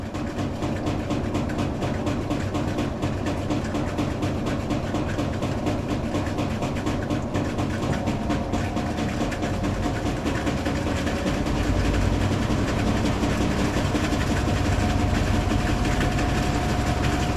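A Maytag top-load washer on a quick wash cycle spins at high speed, producing a continuous rumbling whir with a rapid mechanical rattle that grows a little louder partway through, steady and close, with no voices.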